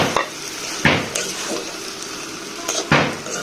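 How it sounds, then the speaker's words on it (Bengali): Spices being stir-fried in a pan while cooking jackfruit-seed dal, with a steady sizzle and several loud scraping stirs of a utensil against the pan, close up, no talking. "মশলাগুলো আমি ভালো করে কষিয়ে নিছি।"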